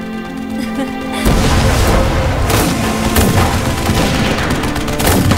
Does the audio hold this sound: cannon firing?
yes